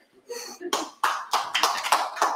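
A church audience gives a few scattered, hesitant claps, a handful of sharp separate hits growing slightly livelier toward the end, with speech-like sound mixed in.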